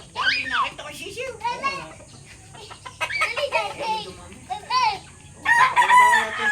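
Chickens crowing and clucking in a yard with chicks around, loud and close, repeated calls throughout while people, including children, talk nearby.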